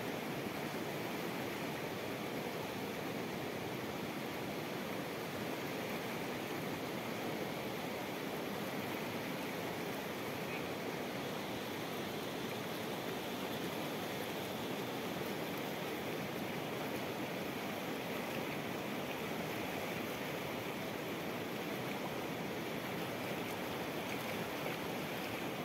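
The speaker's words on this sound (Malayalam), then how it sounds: "അത്രയ്ക്കും ശക്തിയിലാണ് ആ ഒരു വെള്ളം ഒഴുകി പോണത്." Strong current of the Chaliyar river near Nilambur rushes in a steady, broadband roar of flowing water, loud and unbroken for nearly half a minute, with no voices.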